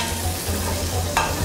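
Diced onion and bell pepper fry with cumin and bay leaf in a pan in a restaurant kitchen, giving a steady close sizzle with faint stirring and a brief scraping clink near the end.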